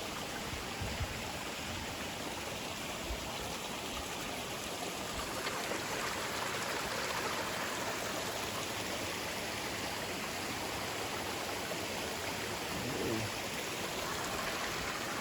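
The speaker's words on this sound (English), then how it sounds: "Good flowing water right there." Steady broadband rush of a mountain stream flowing along a trail in the Great Smoky Mountains, continuous and moderately distant with no talking.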